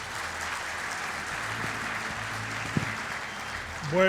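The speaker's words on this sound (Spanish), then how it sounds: "Pido entonces un fuerte aplauso para don Harald Beyer" Audience applause at a national agriculture forum in Chile, a steady wash of clapping that stays even and moderately loud throughout.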